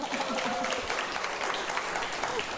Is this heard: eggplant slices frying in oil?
no